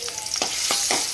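Paste of garlic, coriander and ginger fries in hot oil in a kadhai, giving a steady close sizzle with a few soft stirring scrapes breaking through.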